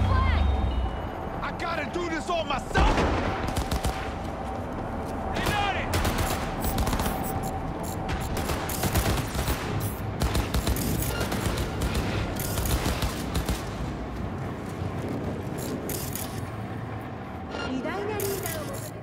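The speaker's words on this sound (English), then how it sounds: "Heard shots being fired." Gunfire in Cyberpunk 2077 2.0, dense bursts of rapid shots and crackling reports running throughout, loud and close, with voices speaking over the shooting.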